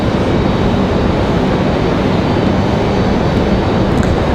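An airliner arrives at Raleigh Durham airport with a loud, steady broadband jet roar that stays constant and close throughout, with no talking.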